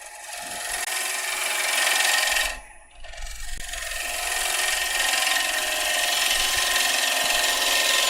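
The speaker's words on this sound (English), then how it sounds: "just gently rubbing that bevel gently" A wood-turning tool's bevel rubs on a spinning piece of unknown wood on a lathe, a continuous loud hiss and scrape with a brief dip in the middle before it resumes steadily.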